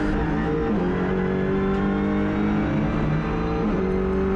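Audi RS3 LMS touring race car engine droning loud and steady from onboard during a lap at Bahrain International Circuit, with pitch shifts as gears change through corners.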